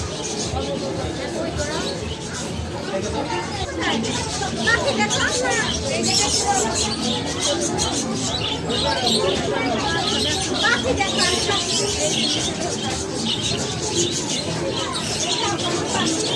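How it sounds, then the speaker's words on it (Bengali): Many birds chirp and twitter continuously in an amusement park aviary housing various species, a dense, lively chorus at steady loudness with crowd noise and voices mixed in. "পাখির কিচিরমিচির কলরবে মাতিয়ে রাখে কর্ণাটি"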